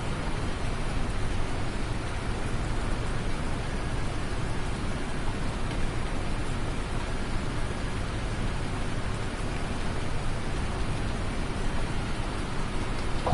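Steady rain falls on a farm in Farming Simulator 19, a dense even hiss that runs unbroken throughout at moderate volume, with no voices.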